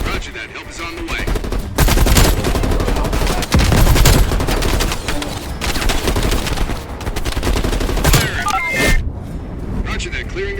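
Gunfire crackles through a Call of Duty Black Ops Cold War battle, loud dense bursts and rapid automatic volleys with booming impacts, continuous and up close with brief pauses, while radio voices talk over the combat.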